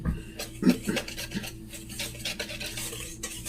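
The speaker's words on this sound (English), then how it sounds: "I'm gonna go ahead and mix this up with my little itty bitty spatula" A small spatula scraping and stirring sugar and flour in a bowl for buttermilk pie, quick close rasping strokes with a few light knocks against the side, no talking.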